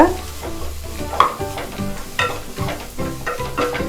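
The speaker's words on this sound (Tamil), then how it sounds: "சும்மா கொஞ்சம் கருவேப்பிலை போட்டுக்கோங்க. இதையும் நல்லா வதக்கிக்கோங்க." Curry leaves sauté in hot oil for a chicken kulambu, a steady close sizzle with frequent scraping stirs of the spoon against the pan.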